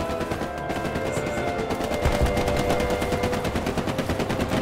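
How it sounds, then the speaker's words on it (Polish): Rapid gunfire in the World War II shooter Hell Let Loose, with dense automatic bursts and overlapping shots in a continuous loud barrage, some close and some more distant. "Chyba nie wiem, czy ktoś do mnie strzela, czy obok mnie strzela."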